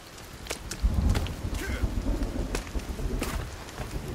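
Steady rain hisses in the Sons of the Forest video game at night, with low rumbling thunder swelling beneath it, continuous and moderately loud with no talk.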